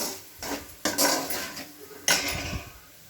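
Chicken frying with chili powder in a pan over a low flame, with a metal spoon scraping and clinking against the pan in a few sharp strokes over a steady soft sizzle.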